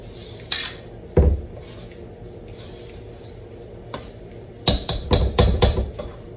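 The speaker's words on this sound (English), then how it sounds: "now we're going to just mix this up a little bit more. Scrape the bottom." A spoon works through pineapple pound cake batter in a bowl, giving a soft thick churn with a knock near the start and then a quick run of clattering scrapes and taps against the bowl toward the end.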